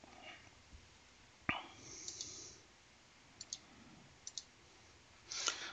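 Computer mouse clicks while configuring server software, a few sharp, faint clicks spaced irregularly over a steady low room hiss, with one louder thump early on.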